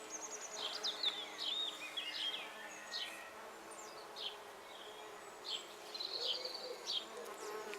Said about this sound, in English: I'll leave you just with a few more images of the bumblebees on the